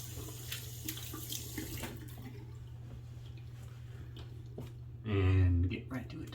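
A bathroom tap runs briefly into a sink, a short full gush of water near the end over a steady low hum, with faint handling noises before it.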